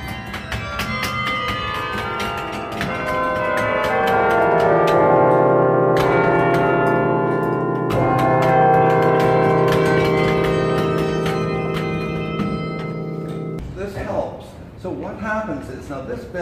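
Carillon bells ring inside Soldier's Tower, loud, overlapping strikes with long sustained resonance swelling and fading across the clip, ending in a quieter, scattered tail.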